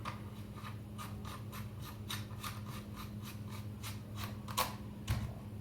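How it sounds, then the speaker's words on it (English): A barrel nut being screwed onto a Browning A5 shotgun, making a quiet, evenly spaced series of close ratcheting scrapes over a low steady background hum, with no talking. "Screw your barrel nut on."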